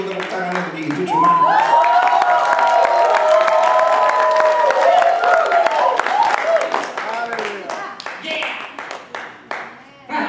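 A church revival congregation claps and applauds together while a loud voice and music carry over the top, the clapping dense and rhythmic beneath, fading toward the end.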